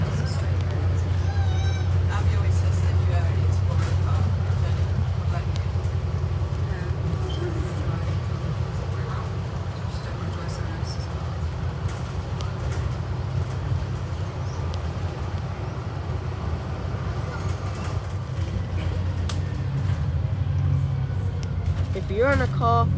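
Steady low engine drone of an Alexander Dennis Enviro 400 double-decker on the Jurassic Coaster route from Dorchester to Weymouth, heard from inside the bus throughout with rattles and faint background voices.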